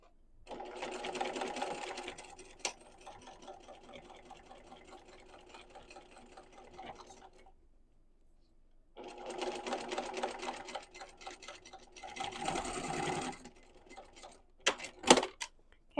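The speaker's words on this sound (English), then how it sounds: "Clip that and then sew this one at a 1/4 inch seam allowance also." Corners of a sling bag are stitched on a sewing machine at a quarter-inch seam in two close, rapid whirring bursts, with a short pause between them and a few clicks and handling sounds near the end.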